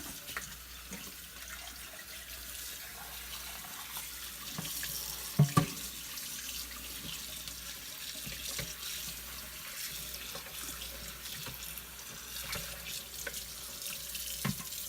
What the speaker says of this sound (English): And we'll give it a good rinse.